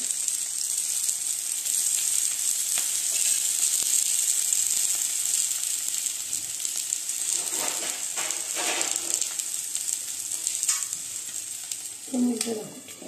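Oil sizzles under a nachni (finger millet) thalipeeth with drumstick leaves cooking on a pan, a close, continuous frying hiss with scattered crackles and a brief clatter near the end.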